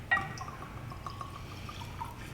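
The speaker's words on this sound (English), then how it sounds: "All right, let's get it poured." Jack Daniels Tennessee straight rye whiskey is poured into a glass, a soft, close trickle and gurgle with a small clink at the start, faint and without talk.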